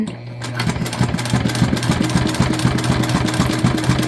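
A sewing machine stitches a jelly vinyl pouch, its motor humming in a fast, steady, rhythmic chatter throughout at close range.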